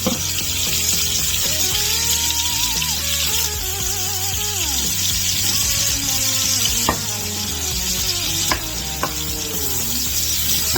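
Onions frying in leftover bacon grease in a pan, a steady loud sizzle and crackle throughout with occasional stirring scrapes and clinks, no voices.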